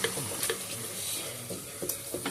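Food sautéing in a pan for homemade stuffing, a soft continuous sizzle broken by light scraping and stirring clicks of a utensil against the pan.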